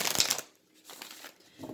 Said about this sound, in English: Shuffle a couple of times.